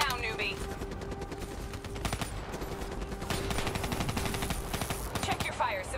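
Sustained automatic gunfire in Call of Duty Black Ops 3, dense rapid bursts firing continuously and loudly throughout, mixed with game sound and radio-style chatter.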